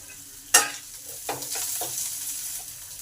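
Chopped onion and ginger dropped into hot oil in a pan, a sharp sizzle burst followed by a few stirring scrapes and a lighter ongoing fry, close and fairly quiet.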